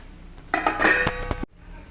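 A metal lid clatters onto a cooking pot: a short burst of clinks and rattles, close and fairly loud, then it settles into quiet.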